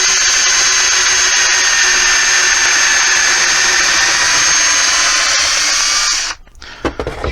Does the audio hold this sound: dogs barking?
no